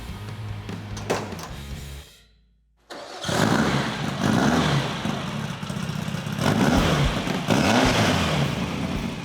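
Class 11 desert race car engine built from off-the-shelf parts cranks, catches after a brief silence, and settles into a loud, close rumbling idle with repeated throttle blips and revs.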